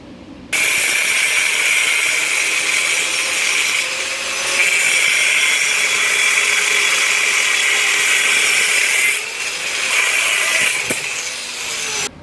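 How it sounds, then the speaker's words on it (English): A cut-off wheel grinding through a steel driveshaft being shortened, a loud continuous high whine held for about twelve seconds with brief dips in pitch and level as the cut progresses, near and alone. "So I'm just going to take the old cut-off wheel, finish it up."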